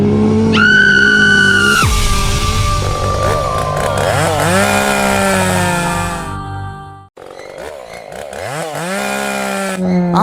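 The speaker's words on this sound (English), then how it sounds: "I don't hear the chainsaw anymore." A chainsaw running loudly up close, revving and whining up and down in pitch, briefly cutting out before starting up again.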